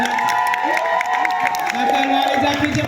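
Audience applause and cheering for dancers at a live show, a dense, steady wash of clapping with a crowd murmur, while a voice talks over it through the whole stretch.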